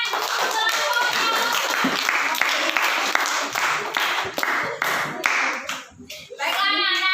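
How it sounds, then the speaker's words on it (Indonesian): Children in a grade 5 classroom clap together for a group, a dense burst of hand claps filling most of the clip, with kids' voices chattering over it and a brief lull near the end. "tepuk tangan untuk kelompoknya"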